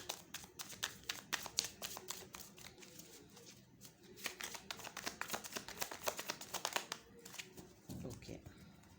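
A deck of tarot cards is shuffled nearby in a dense, continuous run of rapid riffling clicks and flutters, ending with a soft low thump.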